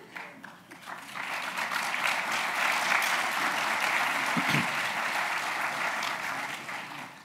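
An audience at the 2019 Founders' Day Honors Convocation at UCF claps in sustained, dense applause that swells and holds steady before easing slightly.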